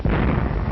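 Big guns firing in World War II combat footage during the German assault on the Netherlands, a loud, dense rumbling blast that fills the whole short moment.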